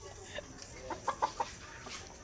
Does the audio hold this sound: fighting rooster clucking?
yes